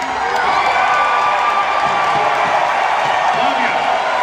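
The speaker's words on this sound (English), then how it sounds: "the crowd goes absolutely bonkers" A large rally crowd in Pennsylvania cheering and roaring continuously, a dense loud wall of shouts and applause with voices mixed in throughout.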